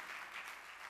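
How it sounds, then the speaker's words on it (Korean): A church congregation claps after a youth praise team's performance, a brief, faint, even patter of applause heard from a distance. "박수."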